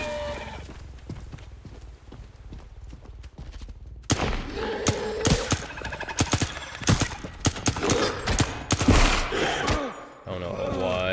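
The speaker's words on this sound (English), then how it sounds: "So now I have to kill them with assault rifles." Assault rifle gunfire in a video game rings out in rapid, sharp bursts of shots, clustering densely in the second half after a quieter start.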